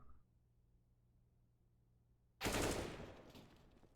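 Rapid gunfire in the video game Counter-Strike during a collegiate match, a sudden loud burst of shots after a near-silent stretch, fading over a second.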